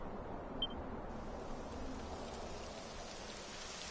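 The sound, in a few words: rain falling in video game Dragon Quest XI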